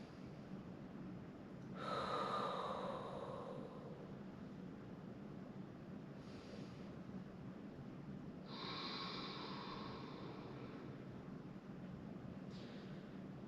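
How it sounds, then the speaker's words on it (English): Two deep, slow breaths are taken close to the microphone while holding an upper-back stretch in a bodyweight barre workout. Each is a soft, airy inhale-exhale, separated by a quiet gap. "Take 2 big breaths here."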